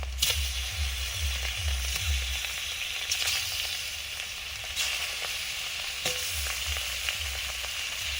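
Steady sizzling of fish frying in hot oil, with occasional scrapes and clinks of a utensil against the pan.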